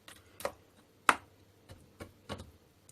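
Knife chopping through raw chicken breast and thigh pieces on a board: a few sharp, separate cuts spaced unevenly, close and moderately loud, with no talking.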